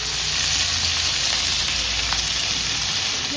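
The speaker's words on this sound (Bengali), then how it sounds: "ক্যাপসিকামটাও দিয়ে দেব। এগুলো একটুখানি ভালো করে ভেজে নেব।" Capsicum frying in a pan for restaurant-style egg chilli, giving a dense, even hiss of sizzling oil that stays constant and close without voices.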